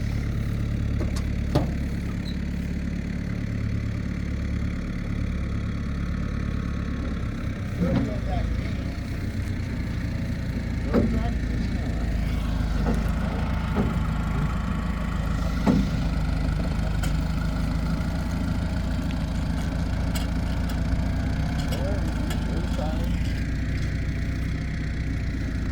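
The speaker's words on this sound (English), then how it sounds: "Alright, let's load it with the tractor." A tractor engine idles and runs steadily while loading a 1974 Ford farm find, a constant low rumbling drone with occasional knocks and clanks, and people talk over it throughout.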